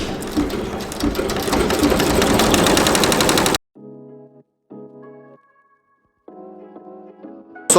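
An embroidery machine stitches appliqué onto garments, first as a loud, dense rapid hammering for a few seconds, then stopping and restarting in short bursts of quieter, pulsing needle runs separated by pauses.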